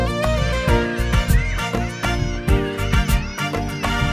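A cat meows again and again in a lively, overlapping run of loud, close calls, some stretched into wailing cries, with hardly a pause between them.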